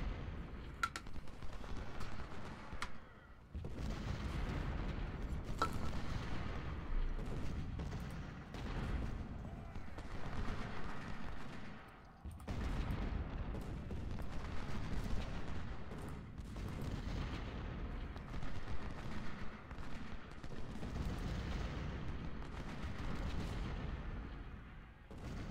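Continuous Civil War artillery and musket fire from the Ultimate General: Civil War game, a dense, steady barrage of booms and crackling volleys running throughout with brief lulls.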